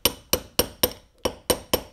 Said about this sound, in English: make sure it's tapped into the groove nicely